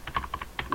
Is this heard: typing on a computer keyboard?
yes